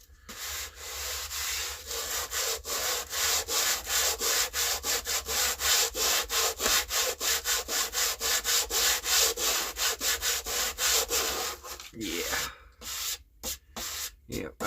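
Hand sanding of cracked wood, a rhythmic rasping scrub of regular back-and-forth strokes at close range, ending with a few scattered rubs and handling noises.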